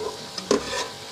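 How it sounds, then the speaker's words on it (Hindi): Spices frying in a pan while being stirred, a soft sizzle with one brief scraping stir in the middle, close and quiet. "ये देखें, ये मसाला भून गया।"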